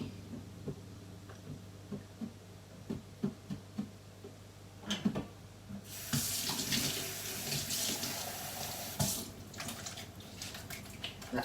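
Freshly picked blueberries being washed for homemade jam: scattered soft kitchen clicks and knocks, then a tap opens and water runs steadily and fairly loudly into a sink, with a few splashes.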